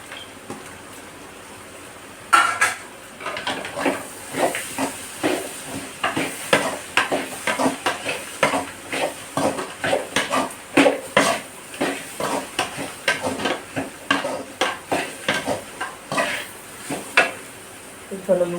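Chicken fried rice being stirred in a pan, with a utensil scraping and clinking against the metal in a steady rapid rhythm over a faint sizzle, loud and close.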